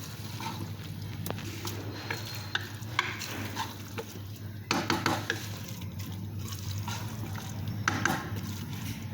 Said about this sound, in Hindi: अब मैं इसको अच्छी तरीके से घुमा लूँगी